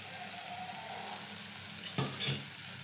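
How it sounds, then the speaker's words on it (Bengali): Beaten egg poured into a hot pan with eggplant, giving a steady close sizzle that flares into a louder hiss and crackle near the end as the egg hits the oil. "এখানে আমি এই ডিম একটা ফেটিয়ে রেখেছি, এই যে আপনাদের দেখিয়েছিলাম ডিম, সেইটা ঢেলে দিলাম।"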